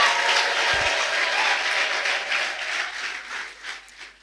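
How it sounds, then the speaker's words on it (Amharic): A congregation at a church service claps loudly and continuously in praise, a dense wash of applause that slowly thins and fades toward the end. "ለጌታ ክብር ጭብጨባ።"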